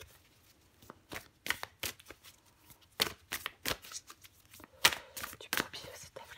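Tarot cards being drawn and shuffled from a deck, crisp papery riffles and slaps in quick irregular bursts, close and fairly soft, with no voice over them.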